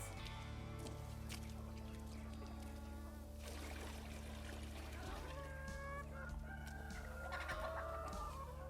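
Hens cluck and chatter inside a farm coop over a steady low hum, with a few louder squawks toward the end; no one speaks.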